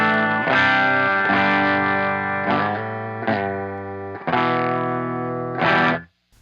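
Electric guitar played through an EHX Nano Muff overdrive pedal with the level maxed out, giving loud, thick, saturated chords struck several times and left to ring, with a short gap before the final strum.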